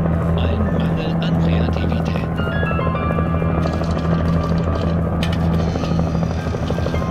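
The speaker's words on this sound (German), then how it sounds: "Stört jetzt mit dem Hubschrauber da draußen" A helicopter drones outside in the video game Alan Wake Remastered, a steady low rotor thrum running throughout under a voice talking.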